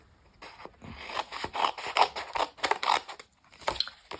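Scissors snip through paper while cutting out a piece for a weathered mixed media ledger journal page, a run of crisp close cuts and slides with a few sharper clips, no talking.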